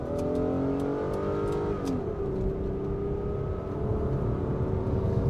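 A Kia Magentis saloon accelerates hard from inside the cabin, the engine note rising steadily in pitch with a brief dip around a gear change, a continuous loud drone with road noise beneath and no talking.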